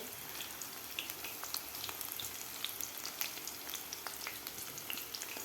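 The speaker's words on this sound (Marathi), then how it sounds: "आता आपल्याला हे सुद्धा बॅच क्रिस्पी होईपर्यंत थोडासा गोल्डन कलर होईपर्यंत आपल्याला हे तळून घ्यायचे आहे" Soybean pakoras frying in hot oil until crisp, a steady close sizzle with scattered bright crackles and pops throughout, no voices.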